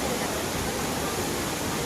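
Uski waterfall in Similipal Tiger Reserve pours in a steady, dense hiss of falling water that stays even and fairly soft throughout, with no other sounds standing out.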